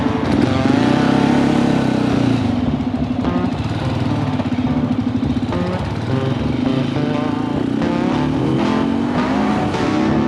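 A 450 motorcycle rides a mountain county road in Colorado, its engine droning loud and steady close up with shifting pitch as it climbs and eases, along with wind rumble and no speech.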